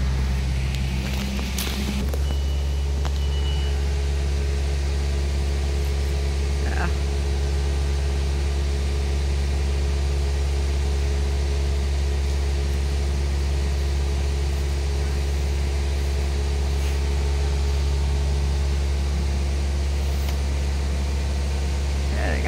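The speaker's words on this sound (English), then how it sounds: "Using a tractor for it and pulling it with a tractor." A tractor engine runs steadily while pulling a tree, a loud continuous low drone holding throughout with a brief louder disturbance near the start.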